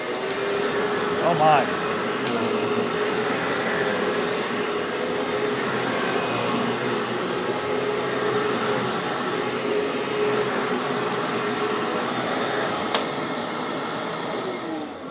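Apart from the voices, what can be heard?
Royal PowerCast vacuum cleaner running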